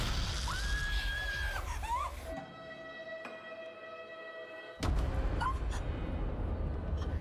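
A woman in a horror film screams hysterically in a long, high wavering cry, then a tense droning score holds alone before loud chaotic sound and another shriek burst back in.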